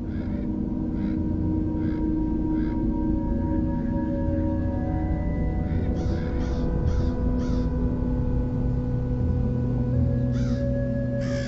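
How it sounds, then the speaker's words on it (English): Crows cawing as they fly in swarms to a roost at dusk, harsh calls repeating in clusters over a steady low rumble, moderately distant, with no speech. "Every evening close to dusk, the crows travel in swarms to a hidden roosting ground."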